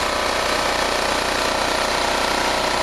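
A petrol generator engine idles steadily and loudly at close range while its carburetor idle and governor screws are adjusted, giving a continuous even drone with no pauses.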